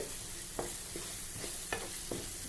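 Chopped onions frying in oil in a pan while pickle is being made, a steady close sizzle with a few soft stirring scrapes and clinks, and no talking.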